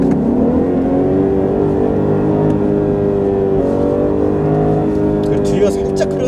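A BMW 540i xDrive engine revs and accelerates loudly up close, with a few faint light exhaust pops near the end, while people talk over it.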